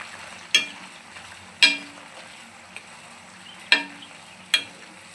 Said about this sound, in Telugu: మందారం ఆకులు వేస్తున్నాను